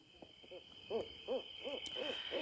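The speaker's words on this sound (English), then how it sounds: "To hear an owl's call meant someone was about to die." An owl hoots repeatedly in a steady series of soft, rounded calls that grow slightly louder, over a faint high steady hiss and background noise.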